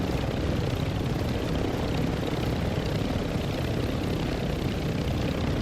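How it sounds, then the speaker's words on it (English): A helicopter in Call of Duty DMZ flies overhead, its loud, steady rotor and engine roar filling the whole stretch without a break. "Helicopter's loud in my ears."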